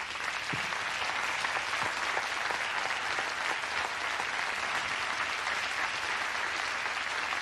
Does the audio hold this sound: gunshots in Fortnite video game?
no